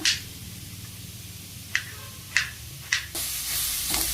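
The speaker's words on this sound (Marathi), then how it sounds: "कांदा कट करून झालेला आहे आता भाजून घेऊया" Chopped onion sautéing in a pan for paneer, a low steady sizzle with several sharp spatula clacks against the pan, then the frying grows louder and hissier near the end; no talking.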